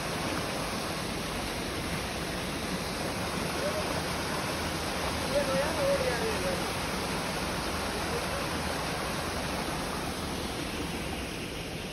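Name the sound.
waterfall in a forest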